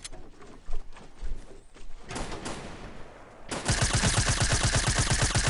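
Fortnite gunfire: scattered shots and bursts at first, then a sustained, loud rapid-fire stream in the last couple of seconds, with no talking.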